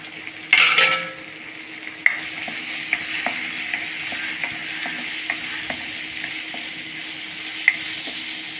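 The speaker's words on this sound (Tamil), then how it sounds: "கடாய் வச்சுட்டு எண்ணெய் ஊற்றிக்கலாம். வெங்காயம் போட்டுக்கலாம்." Onions frying in oil in a kadai, a steady close sizzle after an initial burst as they hit the pan, with occasional light clinks of a spoon against the metal.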